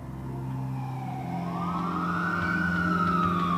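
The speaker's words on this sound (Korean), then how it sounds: "구급차는 캔자스시티에 있는 메디컬 센터로 디어드르를 후송했다" An ambulance siren wails and sweeps upward in pitch over a steady vehicle engine drone, fairly close and continuous, with no talking.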